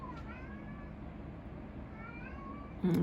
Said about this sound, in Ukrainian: і кіт у мене щось дуже до себе увагу приверта